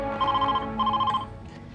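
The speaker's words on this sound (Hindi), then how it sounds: "देखना तो जरा किसका फोन है" A telephone rings in a domestic scene from a Hindi TV drama, two clear electronic bursts of ringing with a short gap between, loud and close, with no talk over it.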